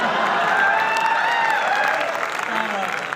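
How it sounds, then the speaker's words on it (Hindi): An audience at a Hindi poetry recital applauds, a continuous wash of clapping from a crowd with a voice audible over it throughout. "तालियां बहुत कम बजाते हैं आप लोग"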